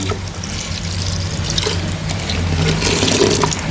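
About 1.5 litres of water is poured into a cooking pot while making moong and masoor dal, a steady rushing splash that runs nearly four seconds, close and fairly loud, with no talk.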